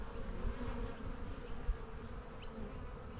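Honeybees buzzing steadily on a frame pulled from a busy, healthy hive during an inspection, a continuous close drone of many wings with no voices.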